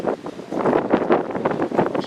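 Gusty wind buffets the microphone outdoors in a chicken yard, a rough, fluttering rumble that rises and falls in uneven bursts.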